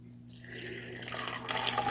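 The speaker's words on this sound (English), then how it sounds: "Pour some water in there." Water poured into a cup of harvested magnolia berries, a short trickle and splash building over two seconds and rising toward the end, close and fairly quiet over a faint electrical hum.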